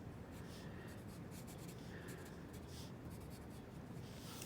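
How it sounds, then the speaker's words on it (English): A pencil sketches a rough brick masonry pattern on paper, giving a faint, continuous scratchy rubbing of graphite close up, with no speech. "So I'm going roughly with my pencil right now."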